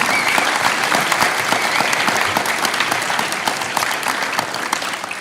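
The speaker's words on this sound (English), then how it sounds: "just one more round of applause for all of our inductees," Hall of Fame induction ceremony crowd gives a sustained round of applause for the inductees, dense steady clapping filling the hall at an even, fairly loud level throughout.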